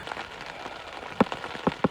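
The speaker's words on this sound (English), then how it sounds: "Okay, it's raining." Rain falling on a backcountry fire-road trail, a steady close patter with a few louder drops striking a nearby surface near the end.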